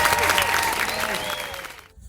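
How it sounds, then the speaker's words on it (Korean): Enthusiastic applause from a small group claps steadily, then fades out toward the end, with a voice briefly cheering over it. "오 박수 한번 주세요."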